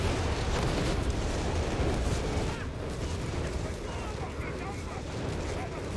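A zeroing artillery barrage in Company of Heroes 3 rumbles on as a dense, continuous roar of distant explosions and gunfire that stays loud throughout, with a voice faintly under it.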